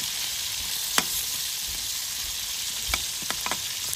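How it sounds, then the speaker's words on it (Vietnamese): Dried fish frying in a pan, a steady soft sizzle with a few sharp crackles and pops scattered throughout, close by and heard alone. "Chiên cho nó vàng rồi bắt đầu mình giấm đường rồi."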